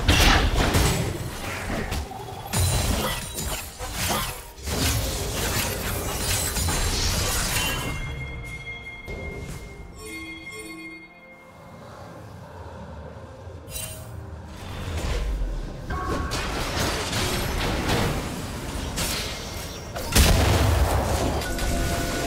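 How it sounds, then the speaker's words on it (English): A turret is destroyed in League of Legends in a long stretch of booming crashes, shattering debris and mechanical clatter. The noise dips briefly midway, then swells again into loud impacts. "Red team's turret has been destroyed."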